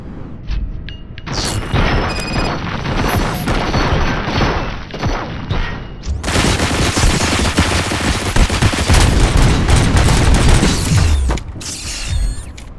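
Sustained gunfire and rattling mechanical clatter fill a battle in RoboCop: Rogue City, with loud dense bursts running throughout and a heavier second barrage that builds, then cuts off near the end.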